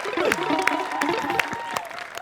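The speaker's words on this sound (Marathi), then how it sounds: "टाळ्या." A studio audience at a comedy show applauds, a continuous wash of many hands clapping at moderate distance, with a voice and crowd murmur faintly underneath.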